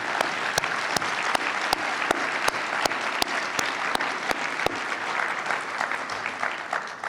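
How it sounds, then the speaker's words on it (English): Audience at a keynote session of the SDHF 2019 conference giving a round of applause, dense continuous clapping punctuated by a regular series of sharp, evenly spaced loud claps, steady and full for the whole span. "please join me in a round of applause for all these supporters"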